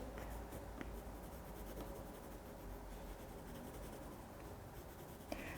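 Colored pencil drawing on paper: a steady, soft scratchy rubbing of pencil lead on paper, continuous and close but quiet, with no talking.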